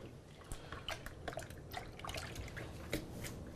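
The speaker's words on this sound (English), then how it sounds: "I'm going to clean up my hands real quick." Hands washed at a kitchen sink, with faint, uneven splashes and drips of water close by in a quiet room.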